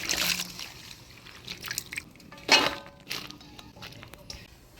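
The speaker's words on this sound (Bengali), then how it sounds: "আলু বেগুন কাটিয়ে নিলাম, পরিষ্কার করে ধুয়ে নিই।" Cut potatoes and eggplant are rinsed in water by hand, giving intermittent close splashes and trickles with a brief louder slosh midway and soft clinks from the container.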